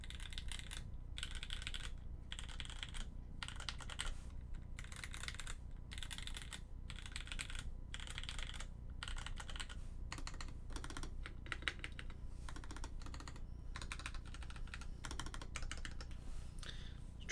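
Typing on a Singa V3 mechanical keyboard, bursts of rapid close key clicks separated by brief pauses, crisp and steady throughout with no voices.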